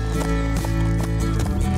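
A horse trots during trot training in the Horse Shelter 2022 game, giving loud, regular clip-clop hoofbeats in a brisk rhythm over a steady background.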